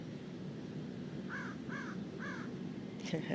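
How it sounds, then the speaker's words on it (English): A crow caws three times at a steady pace at moderate distance over constant outdoor background noise, with a brief burst of other sound at the very end. "So says the crow."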